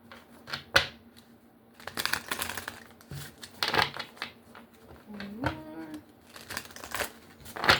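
Oracle cards being shuffled by hand to draw an advice card, giving repeated papery riffles and slaps in short bursts, fairly close, with a brief hum of voice in between.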